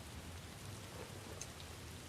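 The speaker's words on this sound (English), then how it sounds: "it's just rain" Steady rain falls in a dim anime scene, a soft constant hiss with low rumble beneath and a faint brief tick near the end, no talking.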